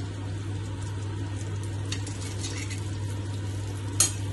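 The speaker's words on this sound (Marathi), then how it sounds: "तेल गरम झाल्यानंतर घालतोय मसाला" Masala frying in hot oil, a constant low sizzle with a few faint spatula scrapes and one sharper clink near the end, steady and close under a low hum, with no talking.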